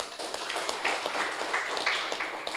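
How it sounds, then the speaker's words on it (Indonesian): Audience clapping for NU at a religious talk, a steady patter of hands of moderate loudness, with no voices over it. "Tepuk tangan untuk NU"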